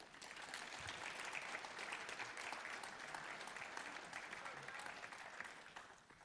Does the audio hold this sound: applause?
yes